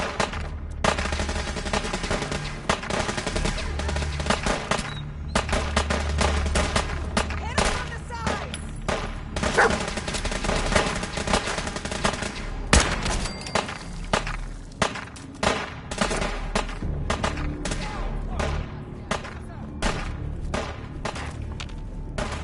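Gunfire in the video game Fallout 4, with rapid bursts of automatic shots and heavy booms repeating over game music and effects, while voices shout in between.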